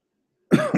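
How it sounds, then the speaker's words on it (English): A person gives a sudden close, loud cough followed by a second, shorter cough with a raspy throat-clearing quality, after a moment of silence. "I apologize for the coughing"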